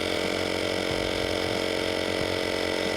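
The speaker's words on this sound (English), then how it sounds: "going to air up the hitch using a simple little procedure, little remote air compressors" A small, cheap portable remote air compressor inflating an air ride receiver hitch, a steady buzzing motor drone with a rapid mechanical pulse, constant and close throughout.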